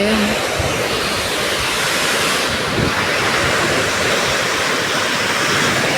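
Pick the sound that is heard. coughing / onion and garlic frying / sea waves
sea waves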